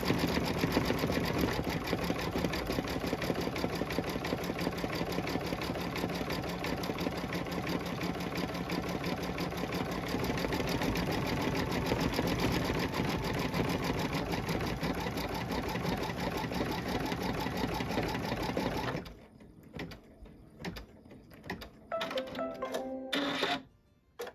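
A Baby Lock embroidery machine stitches a pillow panel design in one loud, continuous, rapid mechanical whirr close by, then stops near the end, leaving a few short clicks and clatters.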